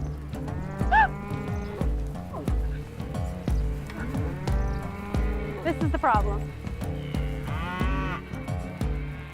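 Pet cows bellow and moo repeatedly for grain, loud and close, with a few bleat-like calls mixed in, while a person talks over the lowing.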